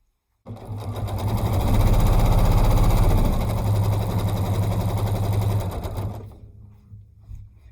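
A domestic sewing machine runs continuously for about five seconds while machine quilting, giving a loud, fast, even whirring drone that cuts off sharply, followed by a few faint clicks.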